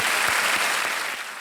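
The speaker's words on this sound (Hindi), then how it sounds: "एक बार फिर तालियों के साथ इनका अभिनंदन।" A studio audience at a Hindi quiz show breaks into dense, sustained applause, loud and even across the whole moment, thinning slightly at the end.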